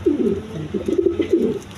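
A big red king pigeon coos in low, throaty, repeated rolling calls, close and clear, with no talk over it.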